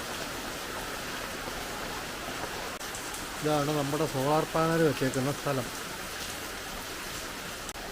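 Steady rain hisses in the background while a person speaks briefly in the middle, the downpour continuing evenly before and after the talk.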